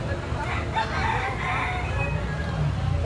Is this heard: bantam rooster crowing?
yes